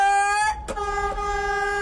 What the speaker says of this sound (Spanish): Toca la bocina.